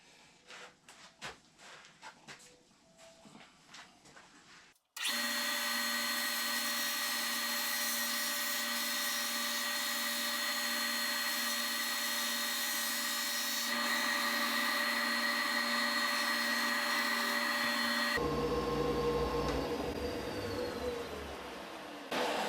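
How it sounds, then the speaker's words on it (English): A drill press spinning a sanding drum against wood cut for an Adirondack chair, a steady loud whirring hum that starts abruptly after a few seconds of quiet and runs without a break to the end. "set up on my drill press to allow me to sand to the line that I showed you earlier."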